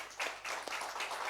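Quiet applause from a conference audience at the 2019 OFISACON event, a short patter of many hands clapping that swells in uneven bursts, distant and soft.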